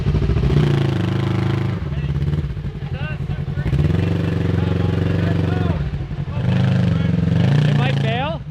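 Side-by-side UTV with a GGB exhaust on a muddy trail over wet, buried logs, its engine droning steadily and loud throughout with rising and falling revs, a voice talking over it at times.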